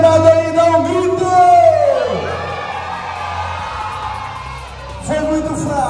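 Birthday party guests at an event hall shout and whoop together in a loud, sustained crowd cheer, rising and fading over several seconds before another burst of voices.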